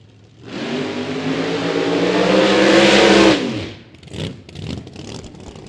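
An alcohol-fueled Pontiac Firebird funny car makes a run at Eddyville Raceway Park. Its engine rises in a loud, swelling roar for about three seconds, then cuts off abruptly, leaving fainter engine noise fading into the distance.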